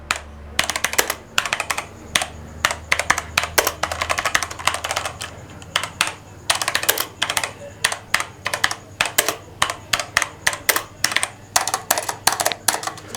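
Rapid mechanical keyboard typing with brown switches on a Cosmic Byte GK-30, close and crisp, with irregular bursts of clacking keystrokes and short pauses, no voices.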